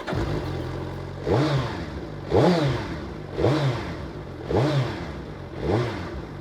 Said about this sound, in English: it's a very smooth, beautiful sound of that inline 4 motor